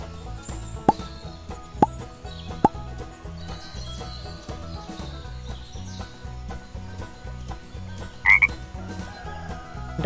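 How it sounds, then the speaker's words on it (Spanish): Steady low croaking from frogs in a dense chorus, with a few sharp louder calls standing out near the start and a chirp later on. "Rana."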